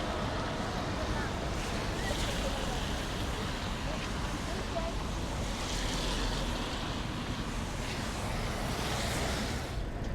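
A steady broadband roar of water at Niagara Falls fills the whole stretch, loud and continuous, mixed with wind buffeting the microphone.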